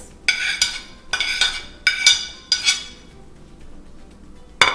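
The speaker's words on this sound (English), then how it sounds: "Then I will add the cactus leaves." Cactus leaves going into a crock pot with red beans: a series of bright metallic clinks and scrapes, about five close bursts in uneven rhythm with quiet gaps between, no voices.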